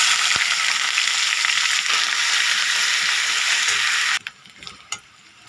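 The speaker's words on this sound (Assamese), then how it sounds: "আদা নহৰু কেঁচা গোন্ধ নোযোৱালৈকে মই ভাজি লৈছোঁ" Ginger, garlic, cardamom, cinnamon, cloves and bay leaf fry in oil with a loud, dense sizzle. The sound cuts off abruptly near the end, leaving a few quiet clicks and taps, with no voices.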